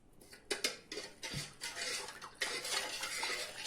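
Sugar and salt being stirred into a dough mixture in a bowl, a utensil scraping and clinking in quick, irregular strokes at close range with no talk.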